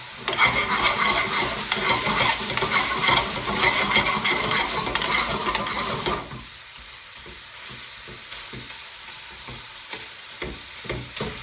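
Fresh mince frying with curry powder for a spicy keema, a loud continuous sizzle with stirring scrapes for about six seconds, then dropping to a quieter, patchier crackle with occasional clinks of a utensil.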